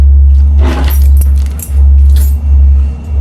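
Keys jangle in a few brief metallic bursts against a loud, steady low hum, close by, with no speech.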